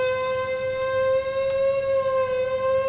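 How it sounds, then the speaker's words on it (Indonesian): A steady civil-defense style siren sound effect wails in one sustained tone with stacked harmonics, loud and continuous with no talk, evoking an air-raid alarm in a Middle East setting. "Itu sirine."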